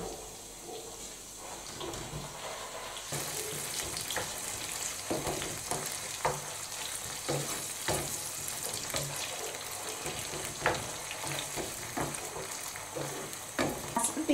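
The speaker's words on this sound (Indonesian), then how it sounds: "Nah setelah bawang putihnya wangi, kita masukkan jamurnya yang sudah aku rebus." Boiled wild mushrooms hit a pan of fragrant garlic and sizzle steadily, with occasional stirring scrapes and clacks over a constant frying hiss for risotto ai funghi; no one talks.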